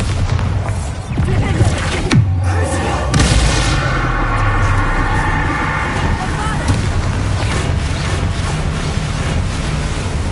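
A Bombarda spell blasts in Hogwarts Legacy as one sudden loud boom with a deep rumbling tail, followed by a continuous low wash of game ambience.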